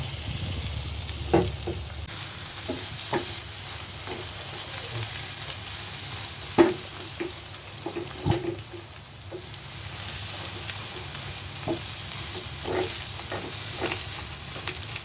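Beaten eggs mixed with ground spice paste frying in a pan, a low continuous sizzle with occasional clinks and scrapes of a utensil, close and fairly quiet, no voices.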